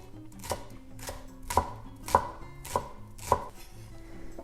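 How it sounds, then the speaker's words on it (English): Sharp knife strokes chopping green onion on a cutting board, about six distinct thuds spaced roughly half a second apart, close and clear with no talking. "Green onion is chopped small."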